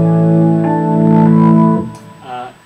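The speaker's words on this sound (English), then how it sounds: "You're looking for a dark sound like this." A dark, sustained organ patch on a keyboard holds rich low chords with layered overtones for nearly two seconds, then fades into a softer, shorter chord; loud and close, with no talking.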